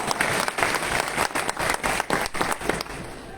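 An audience at a pre-launch speech event in Lucknow bursts into dense, sustained applause, many hands clapping loudly in pulsing waves that ease off toward the end.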